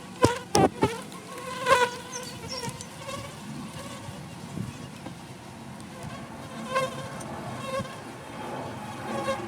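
Honeybees buzz steadily throughout a hive inspection, a close, continuous insect drone with a few sharper knocks and handling noises near the start.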